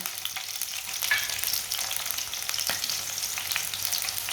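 Finely chopped onion fries in a pan until lightly browned, a dense continuous crackling sizzle with occasional faint stirring clicks, close and steady with no voices.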